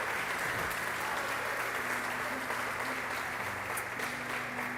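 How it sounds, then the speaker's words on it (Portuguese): A church congregation applauds during an evening worship service, a steady dense wash of clapping that fills the room throughout, with faint tonal music or hum lingering underneath. "Você pode aplaudir a Ele nessa noite"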